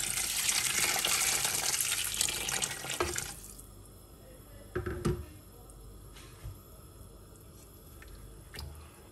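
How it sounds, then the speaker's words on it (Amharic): Cold water pouring into a cooking pot, a steady gushing splash for about three seconds that then stops, followed by quiet drips and a few soft knocks. "ከዛ ቀዝቃዛ ውሃዬን ጨምራለሁ ማለት ነው።"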